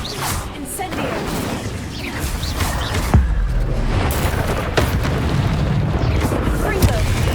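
Fire spell bursts cast in Hogwarts Legacy within a cave maze, loud whooshing booms over dense game noise, with sharp hits around three and five seconds.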